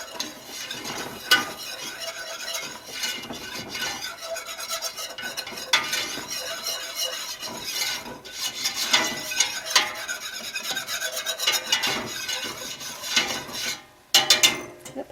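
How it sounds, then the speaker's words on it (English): A whisk scrapes and stirs melted butter and flour into a paste in a pan, making a continuous rhythmic rasping and clinking with faint sizzle throughout and no talk. "And whisk them together until it's like a paste."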